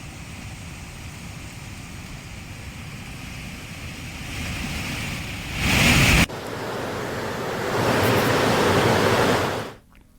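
Rain-swollen streams in flood in Uttarakhand roar as a loud, continuous rush, swelling louder near the end before cutting off abruptly.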